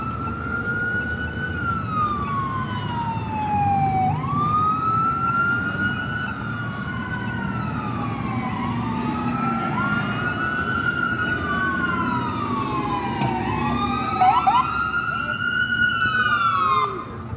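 Two ambulance sirens wail, rising and falling out of step with each other, passing fairly close over rumbling traffic at a Boston intersection, with some talk underneath.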